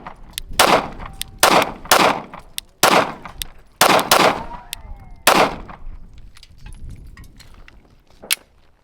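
Glock pistol firing 147 grain FMJ rounds with a stock guide rod, sharp loud shots in irregular bursts of one to several, with brief metallic clinks and pauses between strings.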